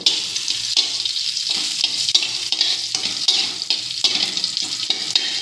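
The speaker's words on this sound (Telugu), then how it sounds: "కొంచెం బాగా స్మెల్ వచ్చే వరకు మనం ఫ్రై చేసుకోవాలండి" Sambar powder and masala kaaram frying in a pan for capsicum sambar, a continuous close sizzle with repeated scraping strokes of a stirring spoon, no talking.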